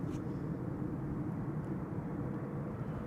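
Embraer jet departing northward from Amsterdam Schiphol, a low, distant, steady engine rumble.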